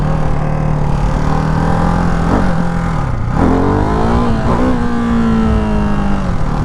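A Ducati Hypermotard 698 Mono RVE single-cylinder engine revs steadily and loud and close throughout, its pitch dipping briefly mid-way before climbing and holding high as the bike is held up on its rear wheel.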